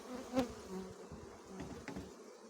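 Buckfast honeybees buzz close by, a soft uneven drone that rises and falls as they move about, with no talking.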